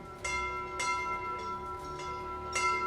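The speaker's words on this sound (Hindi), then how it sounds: "हाँ, घंटियां बज रही है।" Bells ring out clearly, several resonant strikes spaced unevenly, each leaving a long shimmering hum, heard alone with no talking.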